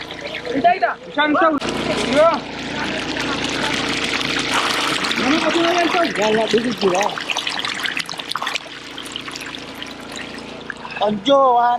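Water pours and trickles steadily beside a deep swimming pool on an Ethiopian khat farm, a continuous splashing wash under frequent nearby speech and shouts.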